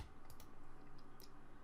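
Several quick keystrokes on a computer keyboard while searching in Windows 8.1, crisp close clicks in a loose irregular run over a low background hum.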